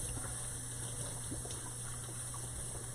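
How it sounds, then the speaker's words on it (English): Kitchen tap running steadily during handwashing, a constant faint rush of water with a low hum underneath and no clear breaks. "Let me wash my hands here."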